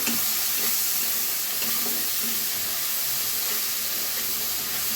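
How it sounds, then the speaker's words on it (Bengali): Small shrimp coated in salt and turmeric fry in a pan, giving a steady, close, broadband sizzle with faint stirring scrapes and no talk. "একটু লবণ আর হলুদ দিয়ে নিয়েছি, যাতে চিংড়ি মাছের ভিতরে লবণ আর হলুদটা প্রবেশ করে একসাথে। এখন একটু ভেজে নেব।"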